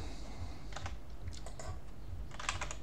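Bursts of keyboard typing, clusters of quick key clicks separated by short pauses, fairly close, over a low steady background hum.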